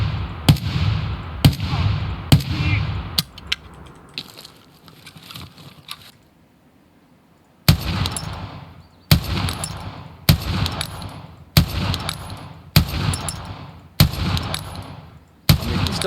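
Gunfire in the game Escape from Tarkov: a few rapid shots, a pause, then a long run of loud, evenly spaced single shots with sharp cracks and short decaying tails, no talking.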